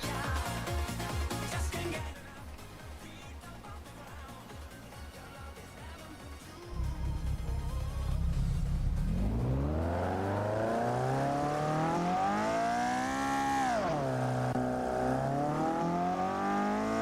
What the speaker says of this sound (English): I'd like you to listen to how good this engine sound is.